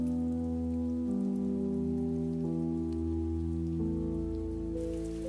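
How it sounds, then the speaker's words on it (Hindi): Heavy rain falls in an animated Hindi story, a loud, steady wash that lasts the whole time under sustained tonal background music, with no talking. "आज बारिश कुछ ज्यादा ही तेज है"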